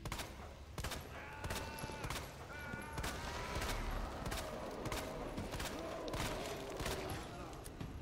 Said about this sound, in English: Just never stop firing.